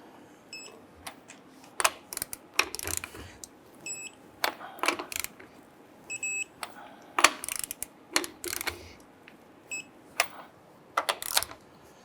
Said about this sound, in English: torque down the lug nuts to 100 foot-pounds